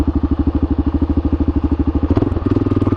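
A Kawasaki KLR650 single-cylinder motorcycle thumps close by in a fast, even pulse that quickens and roughens near the end as the throttle opens.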